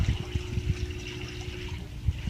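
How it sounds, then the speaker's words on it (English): Aquarium air stone bubbling in a fish tank, a steady soft fizz of water with low gurgling bursts, close and fairly quiet with no talk. "That's an air stone right there."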